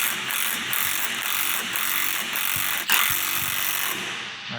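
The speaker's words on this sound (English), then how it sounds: "So with our impact gun, we're gonna tighten this." Impact gun rattles in rapid bursts while tightening a ball joint press tool on a Jeep Wrangler, a loud, steady buzzing hammer that pauses briefly once and then resumes, with no talking.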